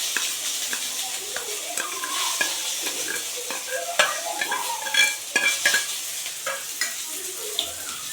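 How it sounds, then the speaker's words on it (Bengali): Washed lentils sizzle in a hot pan while a spoon stirs and scrapes them, with a steady hiss broken by frequent clicks and scrapes, close and fairly loud. "এখন আমি ডালগুলো দিয়ে দেব ধুয়ে রেখেছি ডালগুলো দিয়ে দিলাম"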